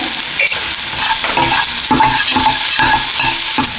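Prawn malaikari masala with turmeric, cumin and salt being sautéed, a steady loud sizzle with rhythmic scraping strokes of a spatula stirring through the pan, close up and without talk.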